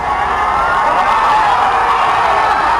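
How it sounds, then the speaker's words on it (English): A crowd gathered outside a courthouse roars with a huge, continuous cheer at a landmark same-sex marriage ruling, loud and dense with overlapping shouts. "A huge cheer, then singing as the decision reaches the crowd out front."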